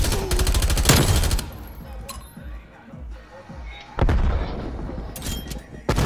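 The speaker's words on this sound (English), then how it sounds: "And you got LMG, you can shoot through the wall." LMG fire shooting through a wall in Call of Duty Black Ops Cold War, rapid loud bursts at the start and again near the end, with clinks and game noise between.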